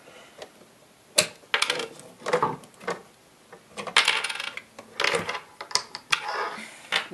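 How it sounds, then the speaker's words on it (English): Knobs being pulled off a Capehart TC-20 radio, with scattered light clinks, taps and rattles of small parts at an uneven pace, close by and without talk. "now we're going to take off the knobs"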